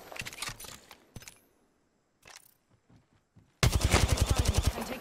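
Gunfire in Apex Legends: scattered shots and quiet gaps early on, then a loud, fast burst of automatic fire close by at the end.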